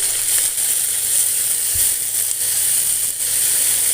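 Chopped tomato fries in hot oil in a pan for aloo dum biryani, giving a steady, close sizzling hiss with faint stirring scrapes and no voices.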